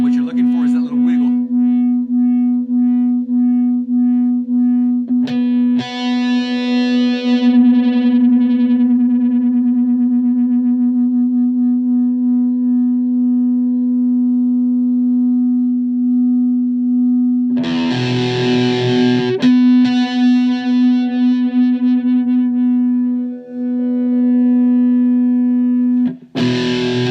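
Sustained low cigar box guitar harmonics ring steadily with a faint wavering beat while being tuned, broken by a few bright strummed chords and sharp plucks; no talking.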